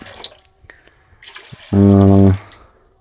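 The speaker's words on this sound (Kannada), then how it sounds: "ಸೊ ಇವಾಗ ಇದಕ್ಕೆ ಕುಯ್ಯೋಣ ನೀರು" Water poured from a container into a cooking pot to boil Maggi noodles, heard as a loud, steady rush lasting under a second amid light handling knocks and clatter, with no talk over it.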